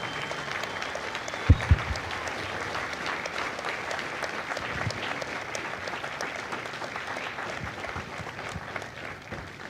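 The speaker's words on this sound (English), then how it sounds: "Ladies and gentlemen, a round of applause for their dedicated service to Corps and country." A crowd applauds steadily at a distance at a Marine Corps recruit graduation at MCRD San Diego, the clapping sustained throughout, with a couple of sharp thumps near the start.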